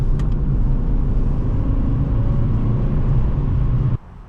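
A 2006 Toyota Matrix XR with a manual gearbox drives along, its steady engine and road rumble loud and constant, then cutting off abruptly near the end.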